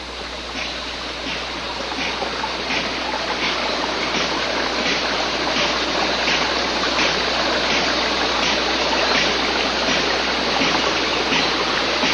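Steady rushing babble of a small creek flowing past plant-lined banks at a rural farm retreat, continuous and close, with no voices over the constant water noise.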